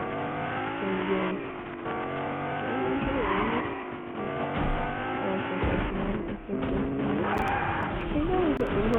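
A car in Fortnite drives, revs and skids, with loud, continuous engine drone broken by repeated tire squeals and sliding bursts, all close up in busy game audio.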